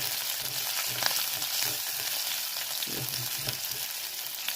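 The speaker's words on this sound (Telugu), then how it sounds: "వెల్లుల్లిపాయలు, సన్నగా తరిగిన పచ్చిమిరపకాయలు, సన్నగా తరిగిన అల్లం ముక్కలు వేసుకొని వేయించుకోవాలి." Garlic, green chillies and ginger frying in a pan, a steady close sizzle with occasional soft stirring scrapes and pops.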